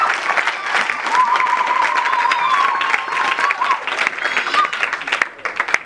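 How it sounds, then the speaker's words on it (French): Audience applauds young student actors after a theatre performance of "La Recherche du Graal", a dense steady clapping with crowd noise and a faint sustained tone running through, tapering near the end. "Est-ce qu'on peut encore applaudir puissamment pour ces jeunes étudiants?"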